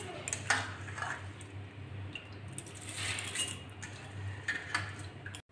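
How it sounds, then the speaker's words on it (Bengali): Washed rice and masoor lentils tumble into a metal pressure cooker with soft, scattered clinks and rattles, accompanied by light metallic taps over a steady low kitchen hum. "ধুয়ে রাখা চাল আর ডালটা প্রেশার কুকারের ভিতর দিয়ে দিচ্ছি প্রথমে।"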